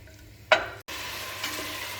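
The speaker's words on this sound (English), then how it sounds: "I'll mix everything and wait until the onions are cooked and almost translucent." Onions frying in oil in a pan, a steady close sizzle with one sharp scrape of a stirring utensil and a brief dropout before the hiss resumes.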